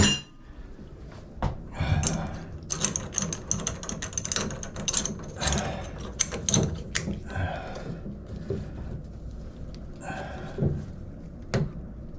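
A ratcheting wrench tightens a shower faucet stem during a stem and seat replacement, giving a steady run of close, sharp metallic clicks and pawl ratcheting with brief pauses and faint clinks.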